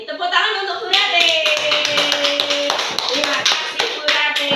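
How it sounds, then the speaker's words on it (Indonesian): A small group claps hands in rhythmic taps at a morning school or teacher activity session in Indonesia, steady and close throughout, with a voice speaking briefly at the start over the clapping. "Tepuk tangan untuk Bu Rate."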